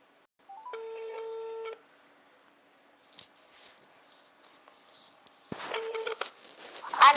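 Phone on speakerphone during a prank call, with electronic dialing or ringing tones in two bursts separated by faint rustling. A voice answers near the end.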